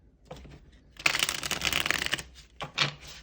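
Tarot cards shuffled by hand in a close burst of dense riffling and rustling that lasts about a second, then a couple of shorter shuffles, with no voices.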